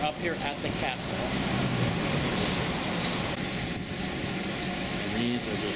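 Tour bus engines idling amid city traffic on Palota út in Budapest near the castle, a steady low rumble with passing vehicle noise; someone talks over it.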